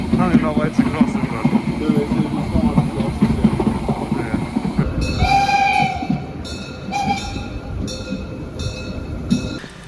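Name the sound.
steam train passing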